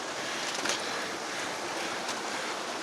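A small mountain stream on the trail up Kasprowy Wierch near Zakopane, flowing in a steady broadband rush with no pauses, moderately near, with faint outdoor air around it and no talking.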